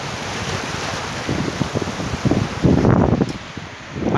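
Waves wash onto a beach while wind buffets the microphone, making a continuous broadband rush with surges of surf rising and falling through the short stretch.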